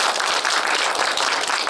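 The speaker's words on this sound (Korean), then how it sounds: "좋은 말씀해주신 도한호 총장님께 다시 한번 박수 부탁드리겠습니다" An audience at a Korean book launch event gives dense, sustained applause after a congratulatory speech, a continuous wash of many hands clapping at once with no break.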